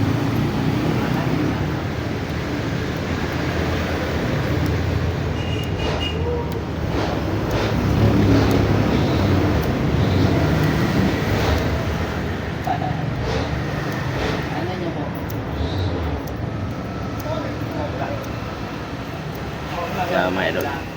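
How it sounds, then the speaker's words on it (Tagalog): Steady roadside traffic noise forms a continuous broadband rumble of passing vehicles beside an outdoor car repair spot, and someone talks over it throughout. "medyo maingay yung ating video dahil tabing kalsada tayo mga idol"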